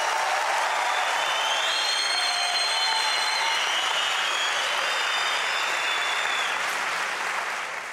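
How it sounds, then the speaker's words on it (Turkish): A studio audience at a Turkish television talent show, after a pantomime act, breaks into sustained loud applause with dense clapping that fills the room and fades slightly near the end. "Alkışlıyoruz seni."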